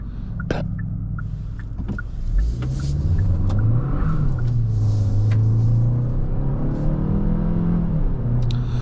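A 2026 Kia K4 GT-Line turbo hatchback accelerates in sport mode, its engine note rising and falling in a close, steady rumble as revs climb through the gears, with no talking.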